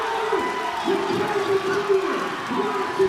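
A college basketball crowd at a Montgomery College Raptors vs Hagerstown CC Hawks game roars and cheers after a dunk, a steady swell of noise beneath a commentator's talk.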